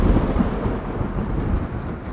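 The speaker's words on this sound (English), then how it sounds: "Dr. Glass, Faust looks out the window again as the lightning strikes the final time." Thunder sounds as lightning strikes during a tabletop role-playing session, a heavy, continuous low rumble with rain hiss, loud and close, with no voices over it.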